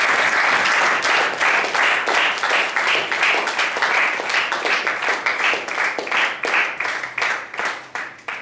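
Big round of applause from a Toastmasters club audience in Dubai welcoming speaker Abdul Khaliq, dense hall clapping that settles into a rhythmic beat and fades toward the end, loud and continuous.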